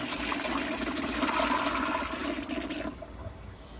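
A 1994 Kohler Wellworth Lite elongated toilet flushing up close, a loud rushing swirl of water that fades into a quieter trickle near the end, no voices.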